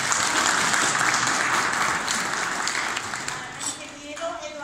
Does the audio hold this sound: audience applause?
yes